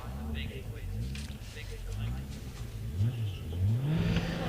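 A 1300 supercharged Force TA hillclimb car at Wiscombe Park accelerates off the line for the British Hillclimb Championship, its engine note climbing steadily and rising toward the end, under a commentator's voice.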